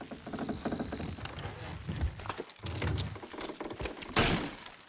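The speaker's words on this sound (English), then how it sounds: "Horses will pull it clean down." Horses in Red Dead Redemption 2 haul a structure down: clopping hooves, creaking strain and cracking, splintering wood, ending in a bright shattering crash, with faint voices in the background.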